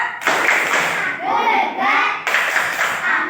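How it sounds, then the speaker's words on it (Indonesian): Schoolchildren clap through the 'tepuk anak hebat' chant in an Indonesian primary school, with bursts of dense clapping broken by a stretch of voices. Young children's voices chant over and between the claps. "mari kita tepuk anak hebat kalian"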